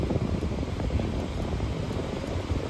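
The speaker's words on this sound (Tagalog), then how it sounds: "Off natin yung blower mga boss. Masyadong malakas yung buga." A steady, strong rush of blowing air from a Toyota RAV4's air conditioning blower fan, constant and fairly loud, with no voices.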